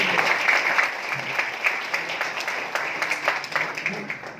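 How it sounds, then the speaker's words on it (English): A seated audience at a leadership sharing event applauds for several seconds, many hands clapping in a dense patter with individual sharp claps standing out, fading slightly toward the end. "So please give a round of applause to those people who invited you here."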